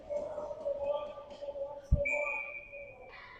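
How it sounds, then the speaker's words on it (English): Referee's whistle at a junior ice hockey game, one short shrill blast rising near the end, heard faintly over quiet rink ambience and a low tonal hum. "ref blows the whistle"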